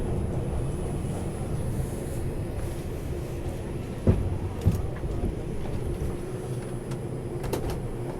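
A Bronx-bound New York City subway train rumbles steadily on the tracks with a low, continuous roar and a couple of brief metallic knocks partway through.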